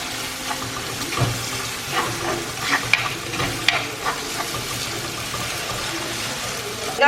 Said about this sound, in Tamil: இப்போ இதை வந்து ஒரு நிமிஷம் நல்லா ஃப்ரை பண்ணிடுங்க